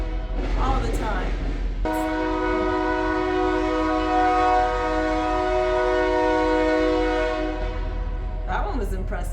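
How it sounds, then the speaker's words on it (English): A train runs on the tracks right outside an old mill building and gives one long, loud, sustained horn blast lasting several seconds. Brief voices come just before and after it. "there's train tracks right outside of this building, and they run day and night"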